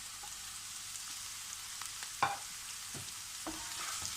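Beans and green chillies for egg fried rice sizzle quietly in a pan over a high flame, a soft steady hiss broken by a few sharp clicks of stirring.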